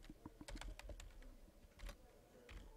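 Fingers tap out a burst of close, uneven keystrokes on a computer keyboard while writing a MATLAB function file, with brief pauses between clusters of clicks.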